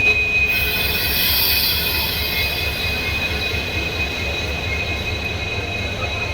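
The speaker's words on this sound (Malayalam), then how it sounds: "ഇത് കൊങ്കണിൽ ഇപ്പോഴും യൂസ് ചെയ്യുന്ന ഡീസൽ എഞ്ചിനാണ്" Diesel locomotive train on the Konkan line at Mangalore Central station, loud and close, with steady high-pitched wheel squeal over a continuous low rumble for the whole stretch, with no voices.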